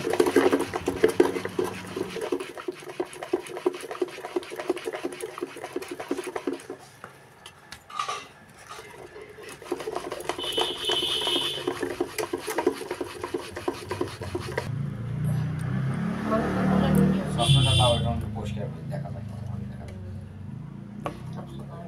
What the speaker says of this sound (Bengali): এখন ছিদ্রযুক্ত ছাঁকনি নিয়ে এর মধ্যে আমি এইভাবে ঘষে নেব।